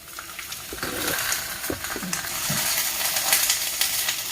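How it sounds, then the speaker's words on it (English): Tomatillos sear in a hot pan for homemade salsa, a steady loud sizzle broken by occasional clatters and scrapes as they are tossed around. "Get your tomatillo, green tomato. Put it like this in the pan. We're going to basically toss them around till they get brown."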